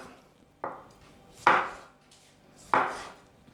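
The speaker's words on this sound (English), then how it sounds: "Now we take the tomatoes and we cut them" Knife slicing fresh tomatoes into pieces on a board, three distinct cutting strokes landing about a second apart, close and moderately loud with no talk.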